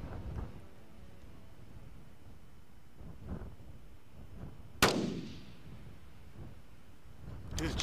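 A rifle shot cracks out on an open-country pronghorn hunt, one sharp loud report with a rolling echo that fades, set against wind and quiet surroundings.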